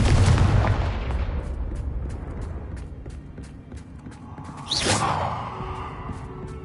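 In the video game Hogwarts Legacy, a Confringo explosion spell blasts with a heavy boom that rumbles and fades over several seconds, followed by a second sharp burst and a shorter rumbling tail.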